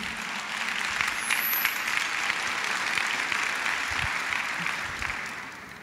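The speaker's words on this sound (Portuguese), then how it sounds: "Pode aplaudir." Church congregation applauding during a Sunday service, a steady broadband wash of many hands clapping together at moderate level, with no talk over it.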